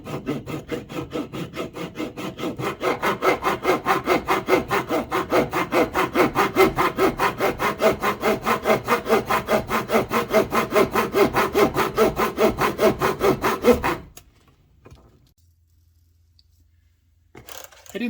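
HO scale bridge track is cut with a fine saw in a miter box, a loud, close back-and-forth rasp repeating in quick even strokes for about fourteen seconds, then stopping into near silence.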